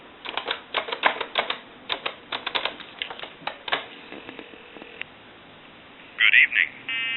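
Touch-tone dialing on a repaired Western Electric 2514 desk phone: a quick series of sharp clicks and short tone bursts, followed after a pause by a few brief warbling tones, fairly close.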